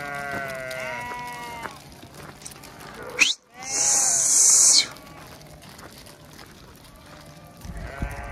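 Sheep bleating in open barren countryside where the flock has stopped to drink, with repeated near bleats at the start and again at the end, broken by a loud hissing burst in the middle and a faint voice in the background.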